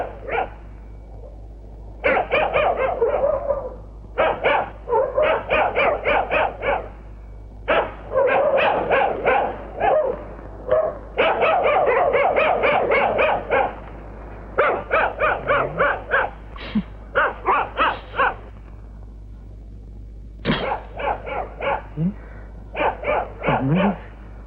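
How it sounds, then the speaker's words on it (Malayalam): A dog barks in long rapid bursts with short pauses between them. The harsh calls are loud and close and keep going for over twenty seconds over a steady low hum, in a scene from a Malayalam comedy film. "പട്ടിയുടെ ധർമ്മം കുറയ്ക്കുക എന്നുള്ളതാണ്"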